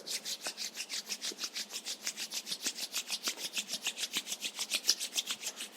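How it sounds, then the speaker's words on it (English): Two palms rubbed briskly against each other in a yoga session, a steady rhythmic swishing of about four strokes per second, close and fairly soft, with no talking. "let's generate some energy between our palms by rubbing our hands against each other."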